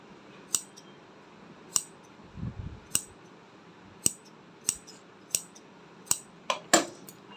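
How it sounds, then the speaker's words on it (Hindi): Scissors snip a notch into suit fabric for a halter neckline, about nine short crisp cuts at a steady, slightly uneven pace over a quiet background, with a soft fabric rustle partway through. "इसमें हम कट का निशान डालेंगे"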